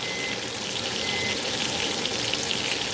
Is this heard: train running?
no